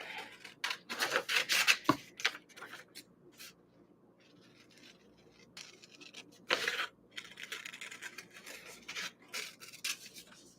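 Scissors cutting fabric up close, bursts of crisp snipping and rustling separated by quiet pauses, with a sharp tap near the start.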